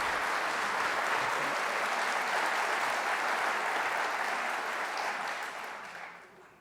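An audience at a preview day for the Center for American Dialogue claps steadily to welcome a speaker, a sustained wash of applause that fades out over the final second.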